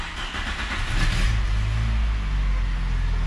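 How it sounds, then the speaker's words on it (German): A turbocharged car engine cranks and fires into a deep, loud idle rumble, steady and close after the start. "So, jetzt starten wir einfach mal die Kiste."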